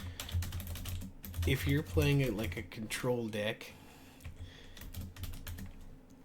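Brisk computer keyboard typing clatters under someone speaking, with quick irregular key taps clearest in the pauses between his words.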